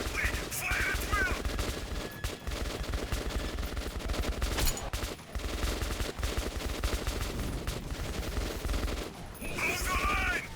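Gunfire in the video game Metro 2033 Redux, rapid dense bursts of automatic shots and overlapping volleys going almost nonstop, with voices shouting amid the fight.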